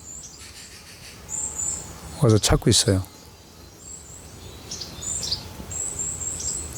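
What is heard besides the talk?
birds coming to a feeder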